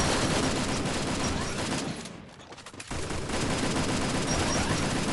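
Dense, continuous gunfire in a battle royale game, rapid bursts that dip briefly in the middle and then resume at full loudness.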